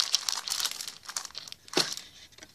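Crinkly plastic packaging crackles and rustles in quick, close bursts as a Lego Batman magazine is opened, with a sharper crunch near the end.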